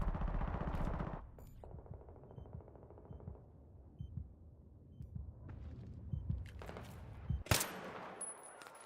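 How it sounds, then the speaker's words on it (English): Gunfire in Battlefield 3 on PS3: a loud burst of automatic fire at the start, then scattered thuds and shots at a distance, ending in a sharp close crack. "Like who's shooting at me?"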